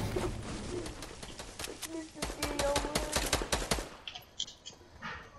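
Rapid bursts of gunfire in Fortnite rattle out in quick, uneven volleys for several seconds, loud and close, then give way to scattered softer game effects.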